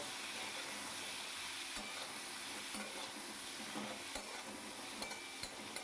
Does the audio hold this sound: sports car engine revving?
no